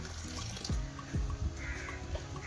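Hot water is poured out of a vessel for making rice papad, with a steady close gurgling splash and a few louder glugs as it flows.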